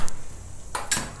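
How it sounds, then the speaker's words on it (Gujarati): Metal kadai being set down on a gas stove in a home kitchen: a few sharp metallic clanks and clinks, close and loud, separated by short quiet gaps. "તો આ આપણે કઢાઈ લીધી,"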